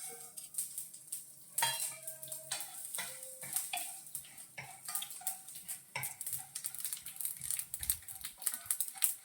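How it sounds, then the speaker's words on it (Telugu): Tempering seeds sizzle and crackle in hot oil in a pan, with sharp pops and spits over a steady fry hiss and occasional clinks of a stirring spoon, close and fairly quiet. "ఇప్పుడు ఈ పోపు గింజలన్నీ దాంట్లో వేసుకుంటున్నాను"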